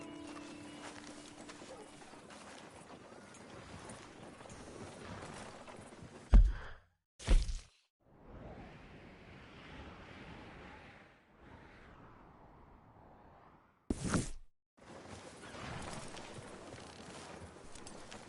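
Horse hooves clip-clop steadily on a road in a PS4 video game as horses pull a ride along. The quiet, even hoofbeats continue at a walking pace and are broken by a few short silent gaps and louder bumps.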